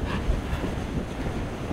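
Surf breaks along a rocky shore during lure fishing for sea bass, a steady loud rush of wave wash mixed with wind buffeting the microphone, with no voices.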